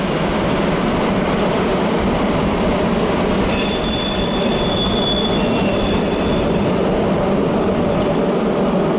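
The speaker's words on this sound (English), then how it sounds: "Here's another DMU, what I think is a Coradia, heading to Trier Hauptbahnhof." An Alstom Coradia regional diesel multiple unit passes through Köln Hbf with a loud, continuous rumble, wheels squealing in high, sustained tones partway through.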